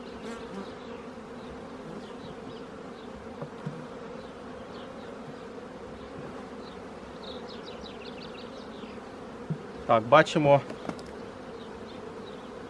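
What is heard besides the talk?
honey bees buzzing at open hive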